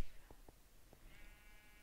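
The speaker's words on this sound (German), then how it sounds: "Und da hinten haben wir auch ein paar Schafe." Sheep in Minecraft bleat faintly in the background, a single short bleat rising over a low steady hum with a few soft clicks.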